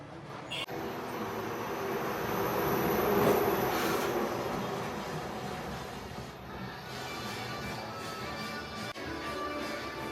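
An amusement ride at the Florida Strawberry Festival moving at speed, a continuous rumbling, rattling roar with metallic squeal swelling and fading, a sharp clank near the start and another later.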